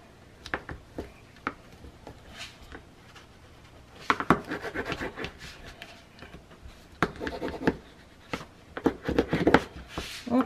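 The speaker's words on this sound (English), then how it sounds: "Let's burnish that in there." A tool or hand burnishes paper onto a scrapbook album cover, giving close, soft bursts of rubbing and scraping with scattered taps and brief pauses between strokes.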